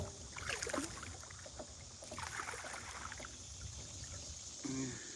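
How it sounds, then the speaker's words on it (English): A canoe or kayak paddles through a river eddy, its paddle strokes splashing and trickling close by in a few soft, irregular dips against a quiet background of running water. "it's all paddling up until after we go under the bridge"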